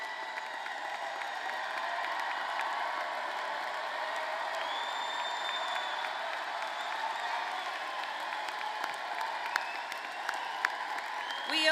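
Large commencement audience applauding graduates and their families in a big hall, a steady wash of distant clapping with occasional cheers and whoops.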